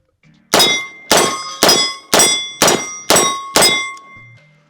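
Seven sharp, loud gunshots from a Smith & Wesson 586 L-Comp revolver firing .357 Magnum 158-grain rounds, spaced about half a second apart, each a ringing crack with a brief decaying tail and no talk.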